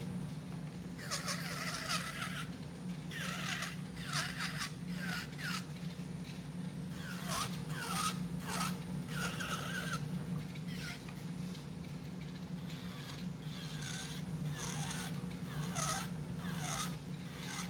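Quick bursts of filing knock the bulk off nails, a faint scratchy rasp in short rhythmic strokes repeating over a low steady background hum, with no talk.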